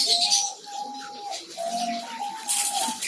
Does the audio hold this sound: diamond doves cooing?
yes